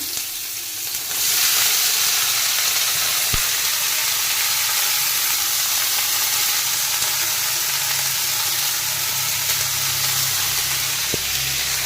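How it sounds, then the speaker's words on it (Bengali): Food frying in hot oil tempered with black cumin seeds gives a steady, loud sizzle that holds for about ten seconds after a brief quieter start, with a few faint clinks. "এগুলো আমি ভাজছি আস্তে আস্তে, এক এক করে দেবো"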